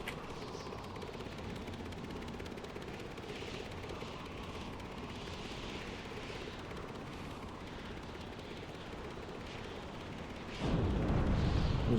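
Torpedo explosion hitting ships in the naval game Stormworks, heard from a torpedo bomber overhead: a sustained roar of engine and distant battle rumble, then a sudden loud, heavy blast near the end.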